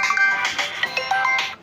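A mobile phone ringtone chimes a bright electronic melody of repeated tones, fairly loud and close, in a rural Awadhi household comedy scene, with no talk over it.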